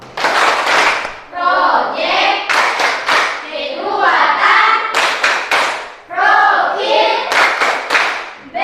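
A school class claps hands together in a patterned, rhythmic routine, loud and close, with bursts of clapping alternating with group chanting.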